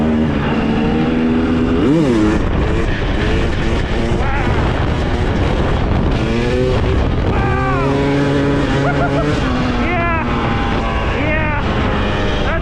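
2023 Husqvarna TX300 two-stroke dirt bike ridden on rocky trails, its engine loud and close with repeated revs and pitch swings as the throttle opens and closes, under heavy wind buffeting.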